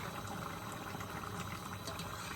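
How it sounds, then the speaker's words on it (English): A pot of bean stew bubbles steadily at a low simmer, a soft continuous gurgle with faint ticking pops, fairly quiet and close. "Okay, so this is boiling nicely. You can hear it going tick, tick, tick"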